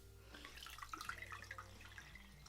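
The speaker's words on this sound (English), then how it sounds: "Okay, I'm wringing it out." Soaked item wrung out in a bowl of warm water: soft, continuous trickling and dripping splashes with faint sloshing, quiet and close, no voices.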